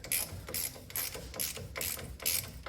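A ratchet turns a motor mount bolt that keeps spinning instead of threading out on a Mazda / Ford Ranger 2.3, giving rapid rhythmic clicking in even strokes, close and moderately quiet, with no talking.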